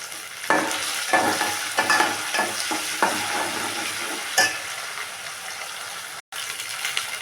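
Whole cinnamon, cloves and cardamom frying in hot oil for a paneer and egg gravy, a steady close sizzle broken by sharp stirring clinks and scrapes, with a brief dropout near the end.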